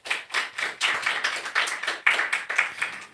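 Audience at a Hindi-language talk clapping in a steady run of about a dozen separate, evenly spaced loud claps.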